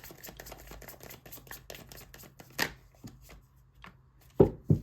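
Tarot cards are shuffled by hand in a rapid string of soft, papery riffles and taps, close and fairly quiet, with a few louder slaps as cards land or fall.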